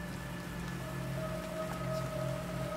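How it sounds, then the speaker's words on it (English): Rain falls steadily in the Planet Crafter video game, a continuous soft hiss under a faint sustained game tone. "Ah, we got rain."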